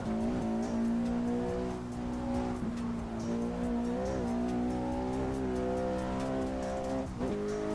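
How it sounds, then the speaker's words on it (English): A Volvo S60R five-cylinder turbo engine in a racing simulator game drones loudly and continuously, its pitch rising and falling through gear changes and accelerations, with light tire squeal mixed in. "The S60R has a very nice 5-cylinder turbo engine."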